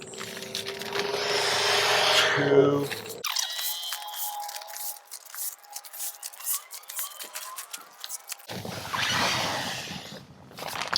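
A handheld air pump inflating a sleeping pad gives a few loud, rushing, squeaky strokes with quieter creaking and handling noise between them, close to the listener.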